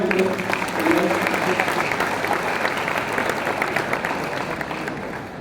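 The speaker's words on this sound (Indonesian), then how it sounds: "Beri tepuk tangan yang meriah untuk beliau" An audience applauds warmly to welcome a government minister at a Muhammadiyah gathering: steady, dense clapping from many hands, holding at an even level throughout.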